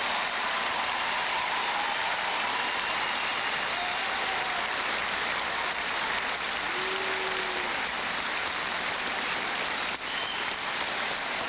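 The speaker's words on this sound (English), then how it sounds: "I ask you to join me in applause for his lifetime of service to the United States" Broad, steady audience applause fills a 1996 election-night hall during President Clinton's speech, honoring Senator Dole. The clapping is dense and continuous and sits fairly distant, like rain-like noise throughout.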